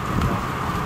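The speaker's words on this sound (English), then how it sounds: "Waiting for the rain to stop." Rain falling outdoors, a steady close hiss filling the moment evenly, less than a second long with no voices.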